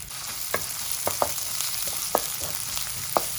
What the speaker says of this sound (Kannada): ಈರುಳ್ಳಿ ಚೆನ್ನಾಗಿ ಫ್ರೈ ಮಾಡ್ಕೊಳ್ಬೇಕು